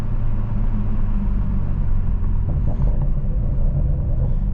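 A 500HP Toyota Supra accelerating hard in normal mode on a cool road, heard from inside: a loud, continuous deep engine and road rumble with no pause.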